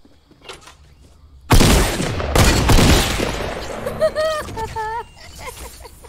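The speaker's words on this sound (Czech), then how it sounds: "Jenom slyším výstřel." Bursts of gunfire in a Bohemia shooting game: a loud sudden volley of shots with booming tails, then a series of short, rising electronic tones as the firing fades. No one speaks.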